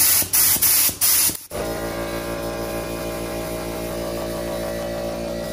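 Clear coat is sprayed onto Porsche Boxster 986 wheels in a few short, loud hissing bursts, followed by a steady mechanical hum with no talking.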